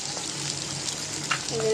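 Continuous crackling sizzle of fish frying in hot oil in a pan, close and steady, with faint clinks in the background.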